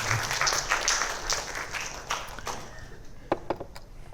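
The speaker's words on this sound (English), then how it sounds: "Can we have a round of applause for these guys?" Applause from an audience at a museum talk, moderately dense clapping that thins out into a few scattered claps, heard at a modest distance.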